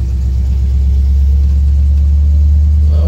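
A 1971 Ford pickup truck engine runs with a steady, loud, close low rumble, holding an even idle-like drone throughout without a clear rev or pull-away.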